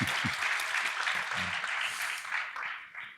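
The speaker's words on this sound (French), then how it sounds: "Oui, ils sont d'accord, ils applaudissent." Audience applauding at a round-table pharmacy conference, dense continuous clapping at moderate level that begins to thin out and fade toward the end.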